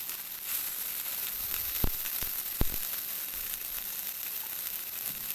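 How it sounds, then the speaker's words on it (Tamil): Sausages frying in hot oil in a pan give a steady, quiet broadband sizzle, broken by two or three sharp pops or clicks partway through, with no voices. "எண்ணெய் நல்லா சூடான பிறகு வெளியில் எடுத்து வச்சுருக்க சாசேஜை இந்த எண்ணெயில் போட்டு ஃப்ரை பண்ணணும்."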